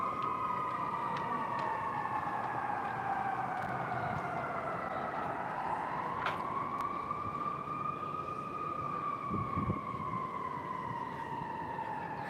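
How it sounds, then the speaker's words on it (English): Distant sirens of emergency vehicles wail along a city street, slowly rising and falling in long continuous sweeps over a low, steady traffic rumble. "So you're hearing sirens."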